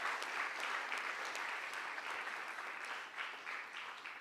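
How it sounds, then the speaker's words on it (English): Delegates in a conference hall applauding at the closing plenary of an agriculture funding event, a sustained, even wash of many hands clapping heard from a slight distance. "So can you give yourselves a round of applause?"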